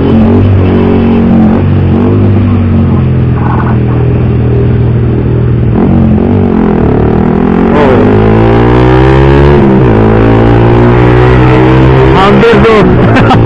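Car exhaust with its valve open, a loud, raspy engine note that drones and then climbs through several revs, with a voice talking over it.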